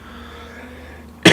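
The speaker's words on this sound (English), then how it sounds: "Bloody cough" A race commentator covering the Bathurst 12 Hour gives a single sudden, loud cough close to the mic, breaking a quiet stretch right at the end.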